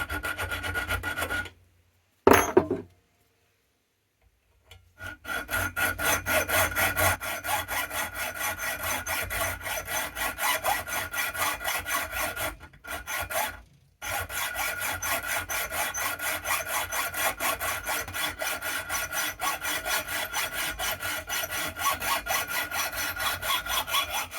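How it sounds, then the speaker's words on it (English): A hand-held metal saw cuts through a skateboard truck axle in steady, rhythmic rasping strokes, loud and close, with two short pauses before the sawing resumes. "Take your metal saw and start to work on it."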